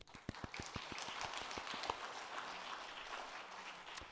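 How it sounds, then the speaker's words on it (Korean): Church congregation applauding during an afternoon open worship service, a brisk burst of many hands clapping that starts sharply, holds steady and then thins out over a few seconds. "그러니까 박수 한번 해주셔야 돼요."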